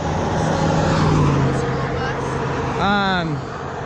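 Road traffic streams past on an Oregon coastal highway between Reedsport and Bandon, a continuous loud rush of vehicles with one car passing close by near the end, while a person talks over the noise.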